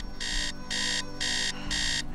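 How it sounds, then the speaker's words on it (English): An alarm clock rings in a video game, its bright electronic beeping sounding in four even bursts with short gaps between them over a low background hum. "The only fond memories I have of that alarm clock"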